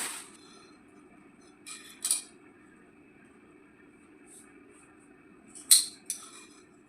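Scissors snip through fabric for the back of a blouse, a few sharp, close cuts spaced irregularly over a quiet room, with no one talking.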